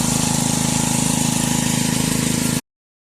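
Gas-powered pump engine running steadily at a gold prospecting site, a loud, continuous close-up drone with an even rhythmic chug that cuts off abruptly near the end.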